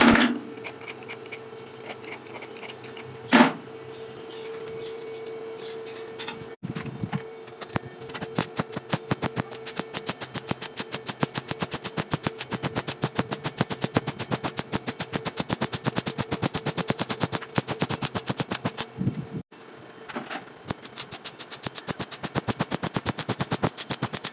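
Welding on a tubular steel stair frame: a dense, steady electric crackle runs close and loud for most of the stretch, breaking briefly twice before resuming.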